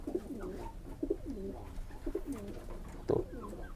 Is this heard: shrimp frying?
no